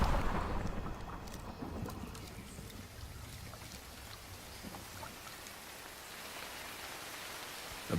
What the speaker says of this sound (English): Above the canopy, the rain is torrential.